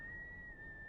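A single steady, high-pitched whistle held continuously for just under a second, fairly quiet, with no talking over it.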